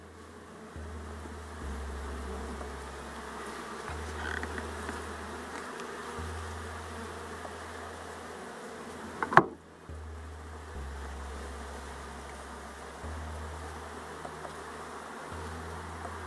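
Honeybees from a new queen test hive hum in a steady, fairly quiet swarm drone close by, with one sharp knock partway through.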